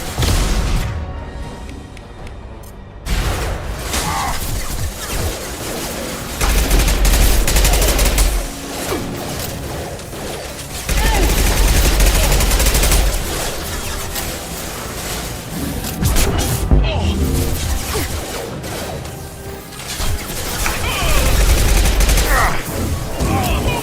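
Heavy Mass Effect 2 gunfire on Insanity difficulty rolls in sustained volleys and booming impacts, repeated in loud waves with short lulls, while game voices speak in between.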